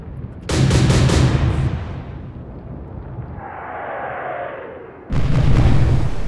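Naval guns fire from warships in the video game Atlantic Fleet. A loud salvo of deep booms rolls and fades, a whistling shell passes, and a second heavy blast erupts at the end, all without talk.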